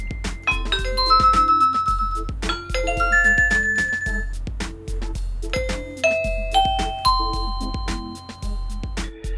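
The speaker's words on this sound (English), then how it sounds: "use the button on the left of the door chime to cycle through different available ringtones" A series of electronic doorbell chime tunes from a Eufy video doorbell plays one after another, bright melodic tones ringing out clearly with no voices.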